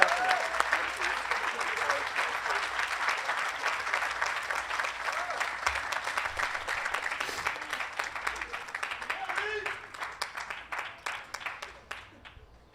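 Graduation ceremony audience applauding an honoured student: a long, even roar of many hands clapping, moderately distant, thinning toward the end.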